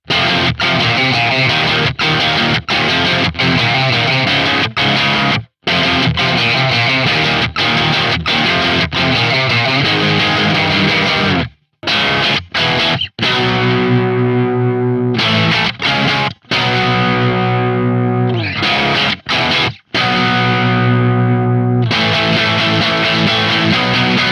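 A heavily distorted electric guitar, recreating tones on a Quad Cortex with the bass turned down, plays chugging chords and sustained notes, loud and alone, with a few abrupt cuts of silence between phrases.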